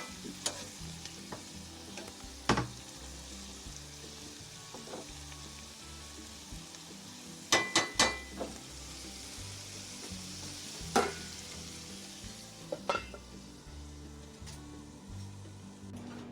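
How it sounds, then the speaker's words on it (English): Foraged spring greens sauté in a pan with caramelized onions and daylily and dock roots, giving a steady soft sizzle broken by sharp utensil clacks and scrapes of stirring, close and alone. "mix them up with the caramelized onions and the daylily and dock roots and cover them and let them saute till they're nice and tender"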